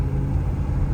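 A 1966 Pontiac Catalina engine idles steadily up close, a deep, smooth, continuous low rumble with no other sounds.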